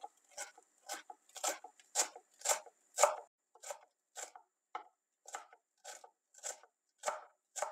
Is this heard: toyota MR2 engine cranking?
no